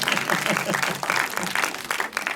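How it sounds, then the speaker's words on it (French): An audience at a film screening applauds a young actor, a brisk burst of clapping from a modest crowd that rises and falls in waves over a couple of seconds. "je vous demande de l'applaudir, s'il vous plaît"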